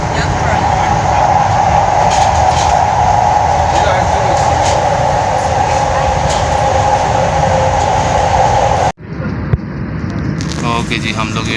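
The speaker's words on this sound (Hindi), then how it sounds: "मेट्रो एयरपोर्ट में जो है वो एंटर हो रही है" A metro train arriving at Beijing Capital Airport Terminal 3, with a loud, steady rumble and whine of the carriages running throughout, a sharp dip near the end as it slows, close and continuous.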